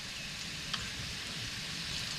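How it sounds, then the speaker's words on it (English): A steady, soft sizzle of softened vegetables frying in a pan, constant and even throughout with a tiny clink partway through. "so I can start frying off"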